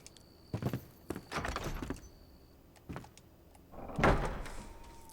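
In the video game Enshrouded, a door opens with a scraping, clunking rumble in a few separate bursts, then a louder swell near the end, heard fairly quietly with no speech.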